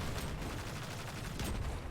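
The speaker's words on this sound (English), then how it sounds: "We're going to start out by shooting these bombs on the wall." Rapid gunfire rattles steadily in Destiny 2 as a Hunter shoots bombs on a wall in the K1 Logistics Lost Sector, dense bursts filling the short stretch without talk.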